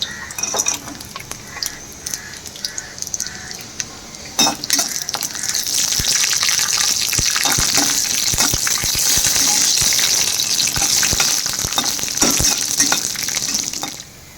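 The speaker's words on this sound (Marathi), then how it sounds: "1 चमचा तेल टाकून घेऊ. खोबरं आणि लसूण परतवून घेऊ." Grated coconut and garlic fry in a spoonful of oil for a traditional Maharashtrian maswadi curry. A loud, steady sizzle swells in after a few seconds and carries on, with occasional clinks of stirring.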